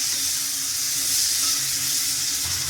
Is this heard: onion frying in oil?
yes